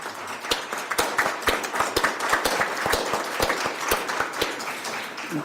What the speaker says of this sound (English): can we have a round of applause for our new officers, please?